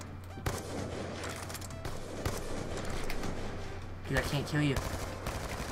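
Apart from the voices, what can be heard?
gunshots in the video game CS:GO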